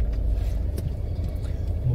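Car creeping slowly through traffic, heard from inside as a steady low engine and road hum, with voices talking faintly over it.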